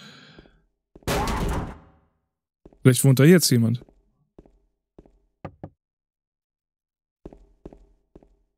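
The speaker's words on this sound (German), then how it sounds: "Ich klopfte an die Tür. Aber niemand antwortet." A door in the video game Silent Hill 2 is knocked in short, sparse taps, a few at a time with quiet gaps between them. Someone speaks briefly before the knocking.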